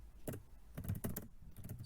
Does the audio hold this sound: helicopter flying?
no